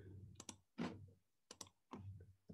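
Fingers tap out a short answer on a computer keyboard, a few quiet, close clicks in small bursts with gaps.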